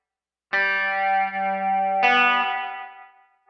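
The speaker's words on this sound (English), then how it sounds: "let's hear how deep the reverb gets." Two sustained electric guitar chords ring out through a Hughes & Kettner Switchblade amp, drenched in deep reverb that lets the second chord trail off slowly.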